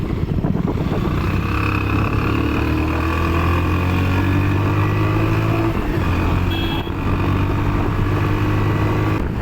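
A motorcycle engine, ridden alongside a Royal Enfield Bullet in a road race, roars at high speed in a loud, continuous drone with steady wind rush and a brief dip midway.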